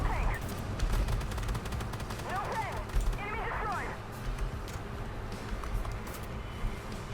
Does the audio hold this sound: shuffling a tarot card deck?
no